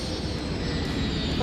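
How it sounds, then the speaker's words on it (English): Airplanes in a city-building game give off a steady, broad engine drone that holds even and fairly loud throughout the short stretch, with no voices over it. "How many fucking planes are just popping up in the middle of nowhere?"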